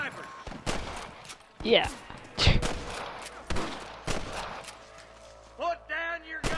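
Sniper rifle shots ring out in the Western video game Red Dead Redemption, a series of sharp, loud cracks spaced irregularly across the scene, with a brief spoken word and shouting voices in between.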